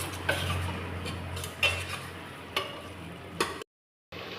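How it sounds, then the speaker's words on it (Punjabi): Masala for dhaba-style baingan bharta roasts in a pan, with a soft steady sizzle broken by several sharp scrapes and clinks of a spoon stirring against the metal, close by with no talking. "ਆਪਣੇ ਮਸਾਲੇ ਤੇ 1 ਮਿੰਟ ਦਾ ਇਹਨੂੰ ਸੇਕ ਲਵਾਉਨੇ ਆ"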